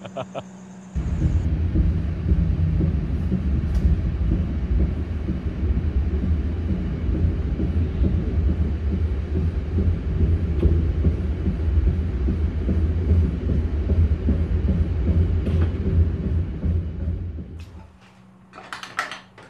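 The Matarmaja passenger train, on its long run from Jakarta to Malang, rumbles steadily along the rails, a dense low roar with faint rhythmic clatter that carries on for most of the stretch before easing near the end.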